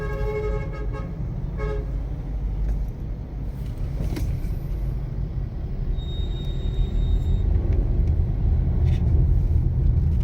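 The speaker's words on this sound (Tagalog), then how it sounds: "Ang heavy traffic talaga." Heavy road traffic with large trucks on C5 in Pasig: a steady, loud engine rumble with car horns tooting near the start and later, no one speaking.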